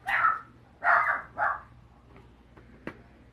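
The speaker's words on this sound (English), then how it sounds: "No, that's my dog." A dog barks three times in quick succession, loud and close, followed by a quieter stretch with faint clicks and a low steady hum in the room.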